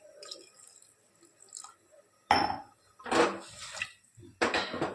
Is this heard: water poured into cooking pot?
yes